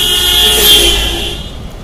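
Fast traffic on a Bihar street fills the air with a dense, steady road roar. A high, sustained horn tone sits on top of it, close and loud.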